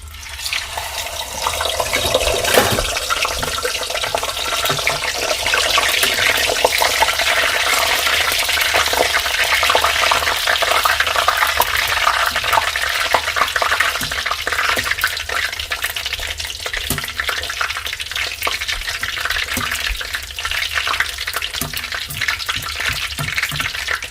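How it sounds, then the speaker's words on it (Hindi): Puri frying in hot oil gives a steady, loud, dense sizzle and crackle that carries on for over twenty seconds, close and alone with no talk. "तो अब डालते हैं दूसरी पूरी को, देखते हैं कि होपफुली वो अच्छी फूलेगी।"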